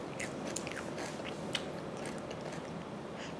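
A whole raw cucumber is bitten and crunched up close, giving crisp snapping crunches over steady wet chewing, fairly quiet and continuous.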